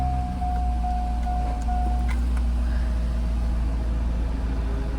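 A Chevrolet C6 Corvette engine idles just after starting, a steady low drone with a brief high tone fading early and small clicks over the continuous hum.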